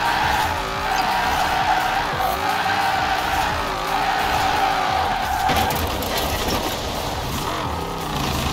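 Sustained tire squeal of a car drifting and spinning its wheels in the racing game Forza Horizon 4, loud and steady with wavering engine pitch and a rougher grinding stretch toward the end.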